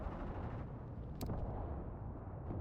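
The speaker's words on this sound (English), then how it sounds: "Let's send some mortars over here." Mortar fire in the World War II strategy game Mius Front: a low, continuous battlefield rumble with one sharp, brief impact crack partway through, no voices.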